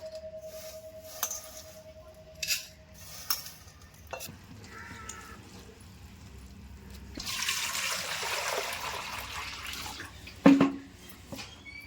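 Prawn shells are rinsed in water by hand, with a few soft splashes and drips, then a louder stretch of swirling, sloshing water and a sharp knock near the end.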